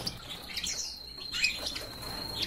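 Buntings in a cage give quick wing flutters and short high chirps, close by, with a continuous faint high whistle running beneath the busy rustling.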